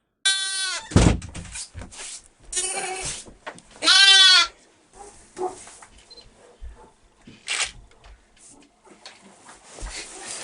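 Newborn lambs kept indoors to protect them from the cold give several loud, close bleats in short bursts, separated by quieter rustling and faint voices in the room.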